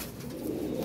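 Pigeons cooing in a coop, a steady low murmur of soft coos running continuously and fairly close, with no talk over it.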